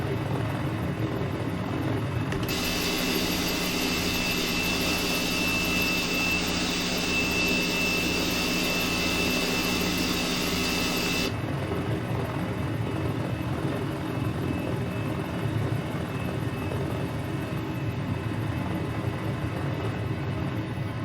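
A helicopter flying over Caribbean beaches in Microsoft Flight Simulator gives a steady, loud rotor-and-turbine drone that runs the whole time, brightening into a stronger whine for a stretch near the start.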